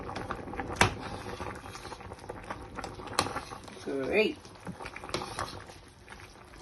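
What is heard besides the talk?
soup boiling in pot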